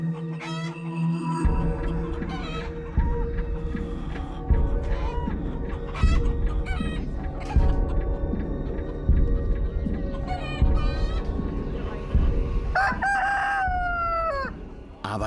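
Roosters at a crowing contest in the Altmark region, several birds crowing one after another, loud and close, with repeated overlapping cock-a-doodle-doo calls and clucks over a steady farmyard background.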